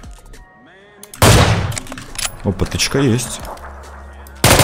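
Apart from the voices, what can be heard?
gunshots in the video game PUBG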